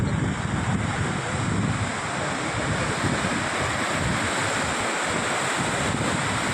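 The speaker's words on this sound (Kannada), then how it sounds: "ದೊಡ್ಡ ಚಾನಲಿಗೆ ನೀರು ಬಿಡ್ತಾ ಇರೋದು ಇದು." Water released from a dam rushes into a large channel, a loud, continuous roaring torrent heard close up throughout with no talking.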